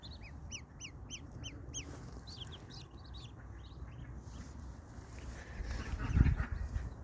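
Mule ducks give a quick series of high, rhythmic calls early on, then quieter scattered calls, fairly distant and faint over outdoor background noise, with a louder low rustle near the end.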